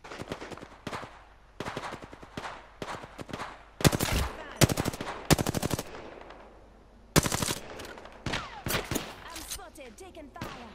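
Bursts of automatic gunfire from the Apex Legends battle royale shooter on PS4, rapid rattling volleys repeated several times across the clip, loud and close, with brief gaps and quieter shots between.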